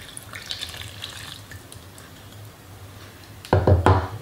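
Warm water poured into bagel dough ingredients of flour, dry baker's yeast and olive oil, a faint splashing trickle that turns into a short louder close pour near the end.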